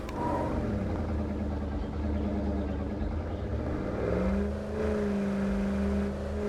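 A car in State of Decay 2 pulls away: a rumbling engine idles and whirs, then climbs into a rising, revving tone as it drives off, close and steady.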